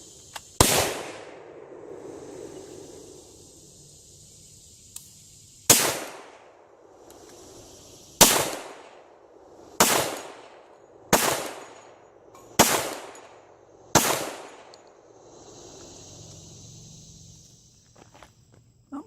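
Seven sharp, loud pistol shots fire reloaded rounds charged with Alliant shotshell powder, spaced irregularly a few seconds apart, each cracking hard and then ringing out into quiet.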